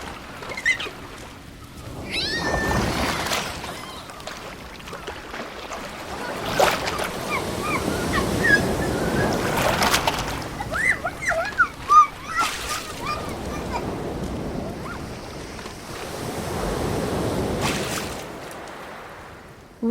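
Small waves washing onto the shore at the seaside, rising and falling in gentle surges under breezy wind, with a voice and other chatter now and then.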